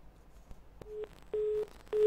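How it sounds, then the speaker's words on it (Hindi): A telephone busy tone follows a disconnected call, beeping in short, steady, repeated pulses at a moderate level over faint line noise. "चलिए लगता है फोन डिस्कनेक्ट हो गया है"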